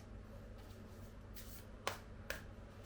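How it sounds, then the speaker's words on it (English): Quiet riffling and brushing of tarot cards being shuffled, with two sharper snaps near the end over a low background hum. "I'm gonna shuffle more."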